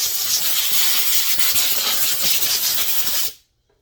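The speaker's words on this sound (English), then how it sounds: "Crank's a little dirty. I'm gonna wash it off right quick." A dirty Husqvarna 372 XP chainsaw crank gets sprayed down with a loud, steady hiss of spray cleaner for about three seconds, close up, then it cuts off abruptly into silence.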